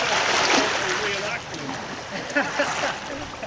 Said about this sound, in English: Now a speedboat has come by and the wash has given us a bit of stick.